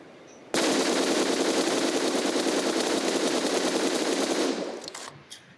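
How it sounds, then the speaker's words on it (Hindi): Sustained automatic gunfire in the battle royale video game BGMI, aimed at a buggy, rattles as one loud, continuous burst for about four seconds before fading into a short tail, with no speech. "मुझे एक सामने से बग्गी का साउंड आता है और मैं उस पर फायर लेने का ट्राई करता हूँ"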